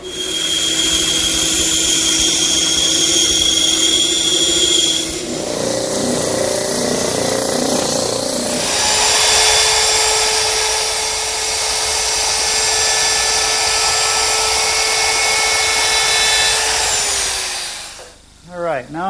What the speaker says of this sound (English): I'll cut them on the bandsaw, drum sand them smooth, and route them with a chamfer.